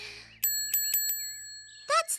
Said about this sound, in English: That's the original bell ring.